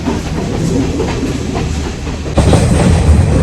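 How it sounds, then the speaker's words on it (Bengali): A train from Colombo to Nuwara Eliya in Sri Lanka rolls steadily along the rails with a continuous rumbling clatter, growing louder and heavier partway through. "যাই হোক ট্রেন ছেড়ে দিয়েছে"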